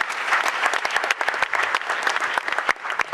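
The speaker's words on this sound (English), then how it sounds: "A round of applause for all of them." Audience applause at a school renewable energy challenge event in Ghana, a moderate crowd clapping with distinct individual claps audible in an uneven, lively patter.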